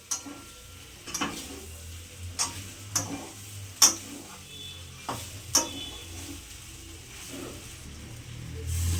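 Teasel gourd and fried potatoes are stirred into spice paste frying in a pan, with a quiet sizzle under irregular sharp clicks and taps of a spatula against the pan, close and without talk.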